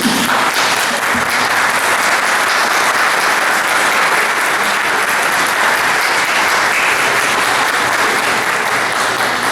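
Dense, sustained audience applause at a formal award ceremony honouring the Intellectual of the Year 2025, steady and loud throughout with no speech over it.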